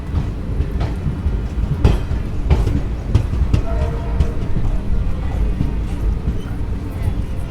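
An Ahmedabad–Jammu Tawi Express sleeper class train runs nonstop toward Jalandhar, a steady loud rumble with rhythmic clicks and clacks of the wheels on the rails throughout, and a voice faint beneath.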